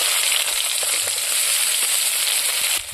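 Onion, tomato, whole cumin and bay leaf frying in hot oil for a village-style fish curry, giving a close, steady, dense sizzle that dips slightly at the very end.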